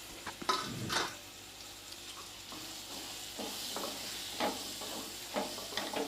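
Chopped capsicum frying in a pan as the base for a gravy, a quiet steady sizzle broken by a few stirring scrapes and light clinks of a spoon against the pan, with no voices.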